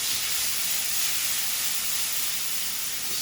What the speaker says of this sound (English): So we got the oil, pan is preheated. We're gonna put some garlic in there.